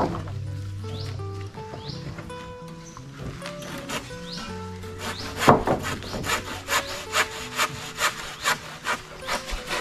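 Rhythmic back-and-forth strokes of a hand saw cutting through wood, getting louder and sharper halfway through, with faint music underneath.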